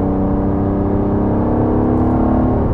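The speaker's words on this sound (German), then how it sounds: "dann hören wir uns mal den Auspuff ein bisschen an" An Aston Martin DBS Superleggera exhaust holds a steady engine speed, a close, even droning hum with a layered tonal quality and no voices.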